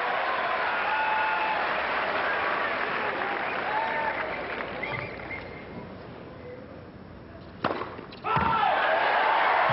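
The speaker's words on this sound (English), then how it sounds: "Crowd not going to let him continue for a bit." Crowd noise and applause from a live game audience keep interrupting a player, a steady wash of clapping and murmur with a brief thud near the end before the clapping swells again loudly.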